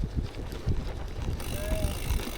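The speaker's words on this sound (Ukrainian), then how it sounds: "Блін, вітерець сьогодні. Буде задувати, звісно." Wind gusts across the open shore of Tsarske Lake during a gravel bike ride, buffeting the microphone as a low, uneven rumble, with a voice speaking over it.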